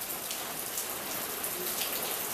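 Steady rain falls around a very tall tree, nearly 30 meters high, a dense even hiss of drops hitting leaves and surfaces with no breaks, fairly soft and close.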